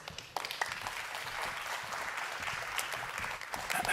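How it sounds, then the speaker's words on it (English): Steady applause from a large indoor conference hall audience in Oslo, a dense wash of many hands clapping at even loudness throughout, with no voices standing out. "join me in giving a warm welcome and a round of applause to Microsoft"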